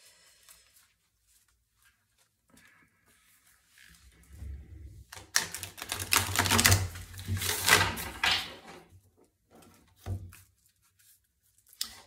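Large oracle cards being shuffled by hand: a burst of papery riffling and flapping in the middle, with a few softer card rustles before and after.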